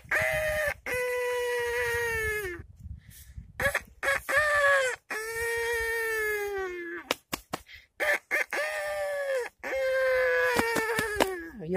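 A voice imitates a rooster crowing, several long drawn-out rising and falling crows, loud and close, with short gasps and clicks between them.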